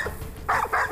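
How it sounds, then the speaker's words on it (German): A search dog lets out two short, close barks in an outdoor field during a search, with a faint whine beforehand over a steady background hum. "Der Hund hat hier was gefunden."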